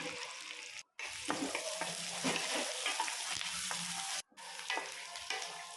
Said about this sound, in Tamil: எண்ணெய் காஞ்சதுக்கப்புறம் கடுகு கடலைப்பருப்பு சேர்த்து பொரிய விட்டுக்கலாம் இல்லை ரெண்டு பெரிய வெங்காயம் கருவேப்பிலை சேர்த்துட்டு நல்லா வதக்கி விட்டுக்கலாம்